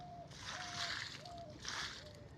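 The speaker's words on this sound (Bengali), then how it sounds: "তো আমি সবগুলোর মধ্যে পানি দিয়ে দিতেছি।" Water is poured onto cracked dry soil around bottle gourd plants in two soft splashing bursts, with a faint tonal sound in the background.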